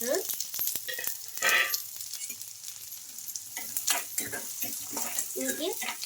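Onions sizzle and crackle in hot oil in a kadai, with scraping stirs and clinks of a spoon against the pan throughout.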